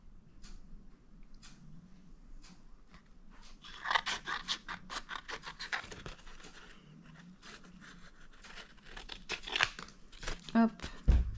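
Scissors cutting through a leather book binding for a relief-design cover, with repeated crisp snips and scraping that build in density and loudness, close up, while a voice talks quietly underneath.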